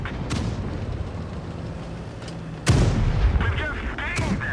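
Tank shells fired in the World of Tanks Blitz video game, with a sharp opening crack followed by a heavy booming impact on an enemy tank's tracks and a ringing metallic tail.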